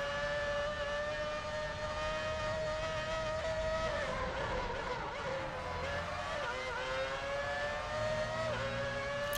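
A Formula 1 race car engine in the PS3 game F1 Championship Edition screams at a steady high pitch that rises and dips with gear changes, loud and continuous.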